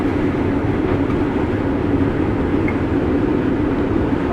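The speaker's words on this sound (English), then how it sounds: "with the way this stuff sounds going through my combine" Combine harvester threshing corn, a dense, steady rumbling drone of machinery, loud and continuous with no pauses.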